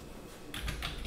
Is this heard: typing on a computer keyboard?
yes